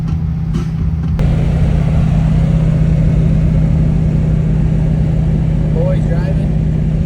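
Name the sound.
car driving with clutch not fully disengaging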